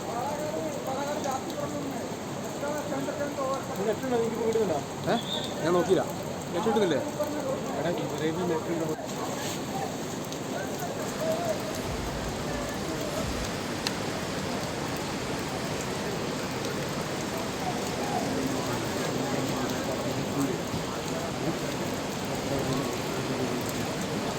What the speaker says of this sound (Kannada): ಜೋರಾಗಿ ಸುರಿತಾ ಇರುವಂಥ ಮಳೆ